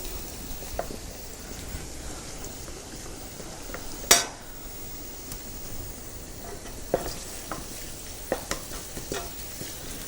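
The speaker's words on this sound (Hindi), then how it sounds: "बस अब ये सॉटी हो रहा है हमारा ये मसाला" Masala with turnip sautéing in a pan, giving a soft continuous sizzle with spoon-stirring scrapes and a sharp metallic clink near the middle, plus a few lighter taps later, close and without talk.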